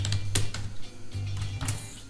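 Keystrokes on a computer keyboard while typing an address into Google Chrome on a Windows PC, a quick uneven run of close, crisp clicks over a steady low hum, with no talking.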